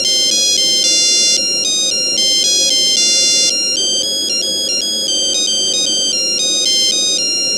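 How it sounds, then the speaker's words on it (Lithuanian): A bright polyphonic mobile phone ringtone melody, received as a text message download, plays alone in quick repeated electronic beeping notes that step up and down in a steady rhythm. "Gautą melodiją galima perklausyti ir išsaugoti."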